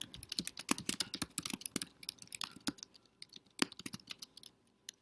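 Quick bursts of typing on a computer keyboard while writing in a document, irregular close clicks and key taps with short pauses, fairly quiet and with no voice.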